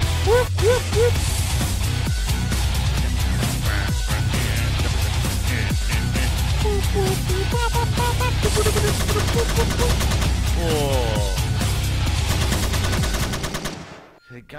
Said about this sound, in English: give them a good twacking with your machine gun, son